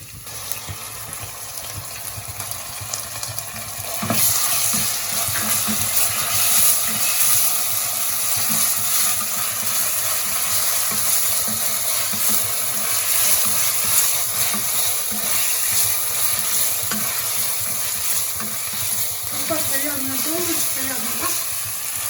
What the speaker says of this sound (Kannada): ಫ್ರೈ ಆದಮೇಲೆ ಶುಂಠಿ ಬೆಳ್ಳುಳ್ಳಿ ಪೇಸ್ಟ್ ಹಾಕ್ಕೊಳ್ಳಿ.